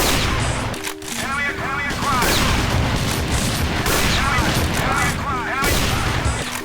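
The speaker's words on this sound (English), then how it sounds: "the sniper rifle sounds punchy, but it's not that powerful against armored enemies" Punchy sniper rifle shots in the Doom mod D.E.A.R., fired amid dense, loud game action with continuous gunfire, explosions and other effects.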